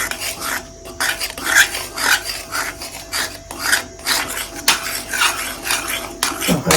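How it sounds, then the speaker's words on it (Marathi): A spoon scraping and stirring a homemade hair dye mixture in a bowl, close and rhythmic with repeated rasping strokes against the bowl, no talk. "आपल्याला हलवत राहायचंय."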